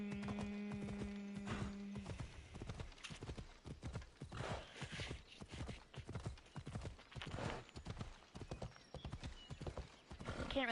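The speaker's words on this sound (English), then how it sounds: "No, this horse is gonna be dead." A horse galloping in Assassin's Creed Odyssey, with rapid rhythmic hoofbeats pounding steadily throughout, a brief whinny near the start, and quiet game ambience beneath.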